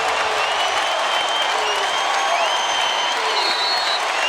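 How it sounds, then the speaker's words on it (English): Basketball crowd in Louisville cheering and applauding during a Virginia Tech vs Louisville game, a loud sustained arena roar with whistles and shouts running throughout. "Listen to this crowd in Louisville."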